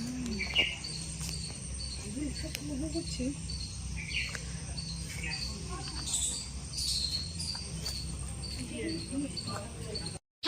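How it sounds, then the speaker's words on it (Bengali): Birds sing and chirp around a village homestay, with scattered calls over a steady background drone of crickets and insects, moderately distant and calm. "এখানে চুপচাপ থেকে পাখিরাও শুনতেই বেশি ভালো লাগছে"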